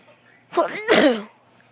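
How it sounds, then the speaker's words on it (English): A single sharp sneeze, with a quick intake of breath followed by a loud burst, close up. "I sneezed."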